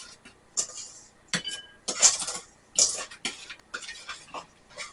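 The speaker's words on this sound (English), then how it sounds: "We're going to mix all of that together really good." Dry ingredients of flour, sugar, salt and baking powder being mixed together in a bowl for blueberry muffins, with repeated clinks and scrapes of a utensil against the bowl coming in quick, uneven bursts close up.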